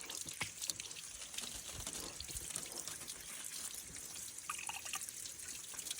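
Muddy water trickles and drips from a heater core hose on a Jeep Wrangler YJ during a cooling system flush, a steady close liquid dribble with outdoor background noise and no talk.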